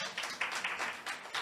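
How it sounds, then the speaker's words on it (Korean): A church lecture audience applauds, giving soft, fairly distant clapping in uneven bursts that continue throughout without speech. "함께 박수."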